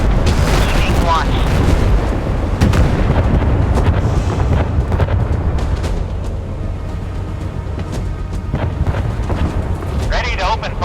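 Naval guns firing at enemy ships in the Force of Warships game, dense booming blasts and rumbling explosions over constant wind and sea noise, with brief radio-style voice callouts now and then.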